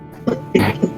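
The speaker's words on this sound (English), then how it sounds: "I'm sorry, I was coughing a whole lot." Three sharp coughs in quick succession, close and loud, with short gaps between them.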